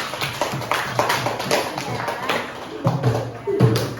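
Schoolchildren in a classroom clap for classmates who came to the front, a run of quick, fairly close hand claps in uneven bursts, with a teacher's voice talking alongside.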